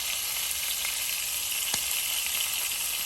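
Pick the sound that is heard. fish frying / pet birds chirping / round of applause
fish frying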